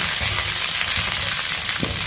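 Garlic and adamant creeper frying in a pan, giving a continuous loud sizzle and crackle throughout with a faint stirring scrape, no voices.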